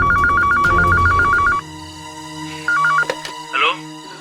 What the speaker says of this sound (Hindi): ये लीजिए, घंटी बज रही है।